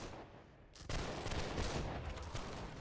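Musket volley fire in the video game Holdfast: Nations at War: quiet background, then one sudden loud crashing volley of many shots that rolls on as a rumbling wash.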